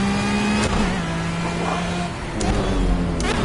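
A simulated race car in Project Cars, held in gear at low revs during a time trial, gives a steady close engine drone with a few brief rises in pitch.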